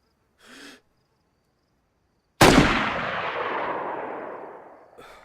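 A single loud gunshot in the DayZ video game, with a sharp attack and a long rolling echo that slowly decays, preceded by a brief faint breath-like sound.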